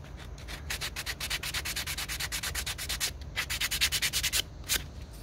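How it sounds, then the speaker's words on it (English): Rhythmic back-and-forth sanding strokes rub across a small handmade wooden snowman, a steady run of close, scratchy passes with a brief pause before a final few strokes. "I'll sand some of that."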